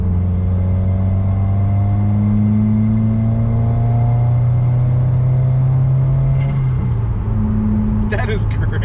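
A turbocharged car engine revs in a loud, steady drone that rises slowly, then drops off with a short turbo flutter near the end. The engine sound stays close and fills the whole span.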